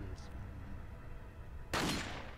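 Gunfire in the Resident Evil 4 video game, one sharp loud burst arriving near the end after a quiet stretch of low ambient hum.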